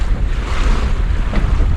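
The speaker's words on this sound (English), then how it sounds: "now it's really wavy. Yeah, we have some wind again." Steady roar of gusty wind and waves while sailing a canoe yawl on rough water, loud and continuous with wind buffeting the microphone, no voices.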